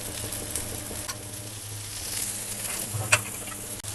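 Oil sizzles on a masala dosa spread across a hot tawa, a steady close frying hiss with a light metallic tap near the end.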